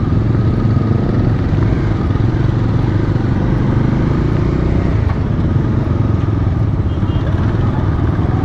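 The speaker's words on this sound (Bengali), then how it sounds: "এতগুলো বাইকার সব একসঙ্গে যাচ্ছি।" A pack of motorcycles rides together at a rider meet, engines droning loud and continuous under heavy wind rush and road clatter, without a break.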